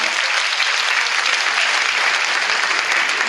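A church congregation claps in a steady, dense wash of applause that fills the room evenly and loudly throughout, with no pauses.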